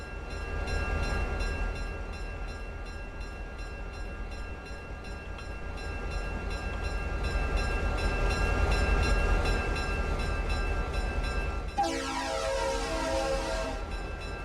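A cargo train in the video game The Islands rolls along steadily with a continuous rumbling drone and rhythmic clatter, then a loud horn blast near the end.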